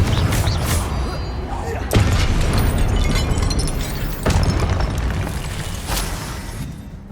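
Booming Confringo spell blasts in Hogwarts Legacy, three heavy explosions a couple of seconds apart, each rolling into a dense rumble, with speech mixed in.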